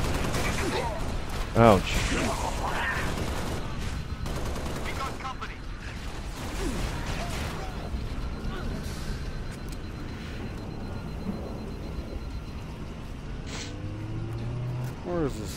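A sniper rifle fires a single sharp, loud crack early on in the Halo: Reach mission Nightfall, set amid busy game noise and frequent talking.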